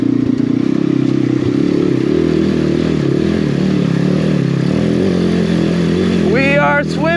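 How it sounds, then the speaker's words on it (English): A cheap Amazon dirt bike ridden off-road through water, its engine droning loud and steady with splashing and clatter, and a rising rev near the end. "We are swimming the bike."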